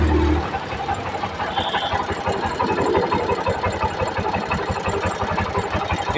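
A TVS auto-rickshaw engine runs steadily at idle, a close, even mechanical chugging and rattle that continues without a break, with no talking over it.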